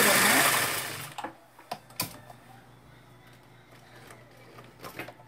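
Singer 666 sewing machine stitching a wide zigzag, a burst of fast whirring mechanical stitching at the start that gives way to scattered clicks and knocks of the handwheel and fabric.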